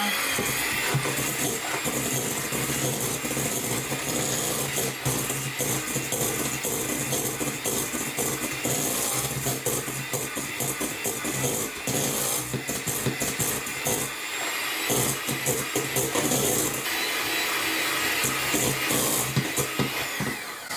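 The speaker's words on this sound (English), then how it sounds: "An electric hand mixer." An electric hand mixer whips sugar and butter in a bowl, a loud, steady motor whine with rough scraping texture running continuously and close throughout.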